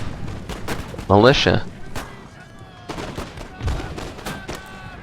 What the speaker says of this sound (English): Okay, the cannons can resume firing.